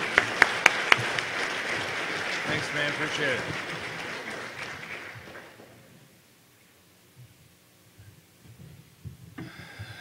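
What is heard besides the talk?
audience applause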